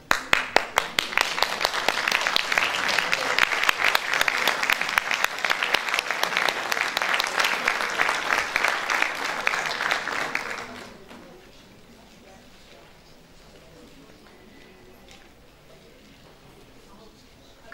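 Audience at a Turkish choir concert claps loudly and steadily for about ten seconds, many hands in a dense rhythmic patter, then the applause fades out quickly and leaves a quiet hall with faint murmurs.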